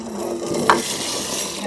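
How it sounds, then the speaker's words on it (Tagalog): Ginataang munggo boiling in a pot is stirred with a spoon, making a close, steady bubbling and scraping sound with one sharp knock against the pot partway through, and no talking. "Halo-halo lang po siya para hindi po siya lumipot."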